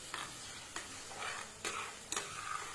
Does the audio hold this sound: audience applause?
no